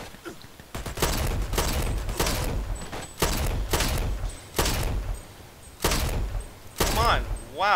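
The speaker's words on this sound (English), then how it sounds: "I'm gonna use shotgun, I think." Shotgun blasts in the online shooter Dirty Bomb: about eight loud, booming shots at irregular intervals of roughly a second, each with a short tail, close and dominant, with brief player chatter around them.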